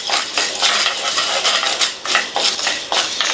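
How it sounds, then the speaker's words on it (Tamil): A spoon scrapes and stirs spices dry-roasting in a pan, with steady rhythmic rattling and scratching close by. "கருகிராம வறுத்துக்கலாம்."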